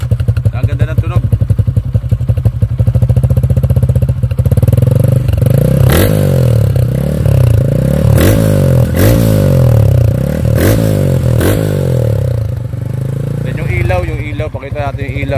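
A Yamaha Sniper 150 motorcycle engine idles loudly nearby, then revs repeatedly in sharp bursts before settling back to a steady rumble.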